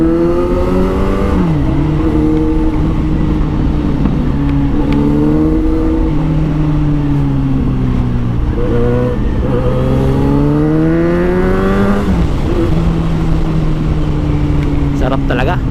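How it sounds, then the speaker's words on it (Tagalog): Kawasaki Z900 motorcycle engine revving in waves, pitch rising and falling through several throttle blips, loud and close, with sharp backfire pops as it drops off. "Lakas ng putok ah, backfire."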